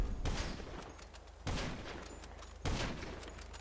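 Heavy sniper rifle shots ring out in GTA 5 Online, three loud cracks each trailing into a long rolling echo, spaced about a second apart with no talking.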